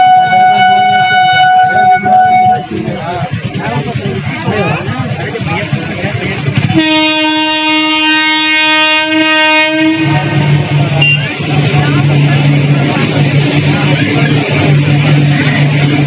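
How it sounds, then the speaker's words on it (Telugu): A train passes a railway crossing with the gate down, sounding long loud horn blasts over a steady rumbling roll of wagons, while people talk nearby. "ట్రైన్ వచ్చిందా?"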